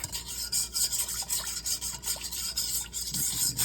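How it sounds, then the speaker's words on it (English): A bowl of banana pudding being mixed with its sides scraped, giving a steady close rasping, rubbing scrape in continuous strokes with no voices. "You want to scrape around the sides, get all that down. Get it mixed up real good."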